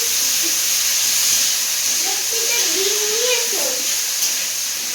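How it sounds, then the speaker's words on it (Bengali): Potato pieces fry in hot oil in a home kitchen, giving a steady close hissing sizzle that runs throughout, with a voice talking faintly under it. "তো এই তেলের মধ্যে আলুটা ভেজে নেবো।"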